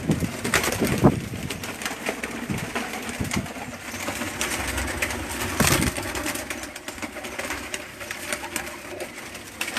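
Breeding pigeons kept by a Karachi fancier cooing steadily and close by, with overlapping throaty calls and occasional rustling, no talk.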